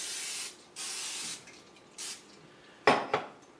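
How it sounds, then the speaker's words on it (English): Cooking spray hisses onto a gluten-free churro waffle: two long bursts and one short one, close and loud, then a couple of sharp clinks as a utensil touches the pan or plate; no one speaks. "Spray this side."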